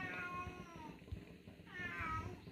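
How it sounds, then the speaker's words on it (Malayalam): Two drawn-out cat meows, close and fairly loud, separated by a short pause of quiet rustling. "നമ്മുടെ പൂച്ച ഇവിടെ വന്ന് നിന്ന് ഇങ്ങനെ കരഞ്ഞുകൊണ്ടിരിക്കുകയാണ്"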